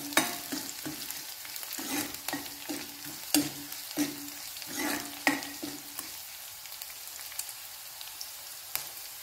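Ingredients for a Kerala-style ginger curry are stirred in a hot pan, with repeated scraping spoon strokes over a steady soft sizzle of frying. There is no talk, and the stirring thins out toward the end.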